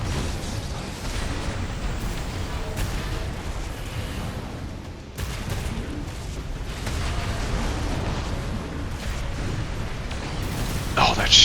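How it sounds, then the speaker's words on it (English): Missiles fire and explode from a tetrapod mech in the Armored Core 6 video game: a dense run of rumbling blasts and bursts that keeps going, with a brief cut midway and a sharper burst near the end. "I cannot believe I haven't been using these missiles sooner, seriously."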